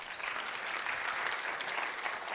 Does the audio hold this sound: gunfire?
no